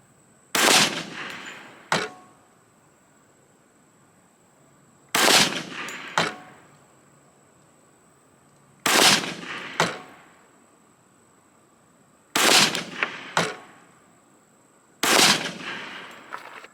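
A Glock 21C pistol fires Mills .45 ACP rounds: loud, sharp gunshots come in five tight clusters of a few rapid shots each, with quiet pauses between them and no talking.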